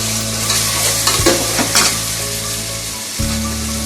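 Onions tossed into hot oil in a pan for chicken Manchurian, giving a loud continuous close sizzle with a few stirring scrapes and a steady hum underneath.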